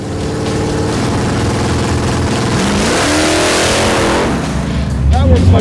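A Camaro drag car engine fitted with an MSD ignition control revs on a two-step rev limiter, a loud, sustained, stuttering roar with rising pitch and a surge near the end, with people talking over it.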